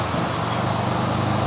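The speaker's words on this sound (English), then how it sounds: "Clutchless downshift to port." A motorcycle engine on a suspension tuning test ride, caught during a clutchless downshift, drones steadily and loudly alongside continuous road and wind noise, with no clear break in the sound.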